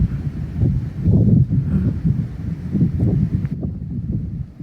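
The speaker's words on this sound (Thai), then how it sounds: "บรรยากาศวิวสวยแต่ว่าลมแรงหนาวค่ะ พี่น้องค่ะ ลมแรงหนาวมาก" Strong, cold wind buffets the microphone at a scenic viewpoint in Na Chaluai district, with deep rumbling gusts rising and falling steadily and no voices.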